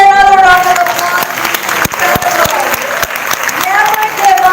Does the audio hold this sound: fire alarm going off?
no